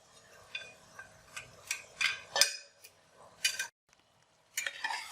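Chicken pieces go into a pan of masala for a village-style desi chicken curry, giving a series of irregular clattering, scraping and stirring knocks with a faint sizzle between them.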